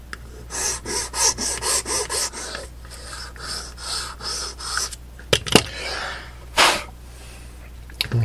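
A metal file rasping on a cheap trainset gondola in a steady run of short rhythmic strokes, close and fairly loud, followed by a few sharper scrapes and knocks.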